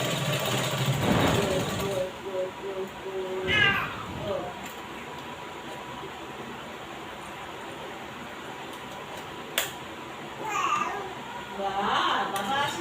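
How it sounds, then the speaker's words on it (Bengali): A sewing machine stitches a sleeve onto a garment, humming in a steady, fairly quiet run beneath a voice speaking at the start and near the end. "আর একটা সেলাই দিয়ে নিলাম"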